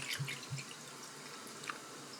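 Water trickles into a container holding a Weir boiler feed pump for a Southworth engine, with a few faint, close splashes and drips over a quiet background.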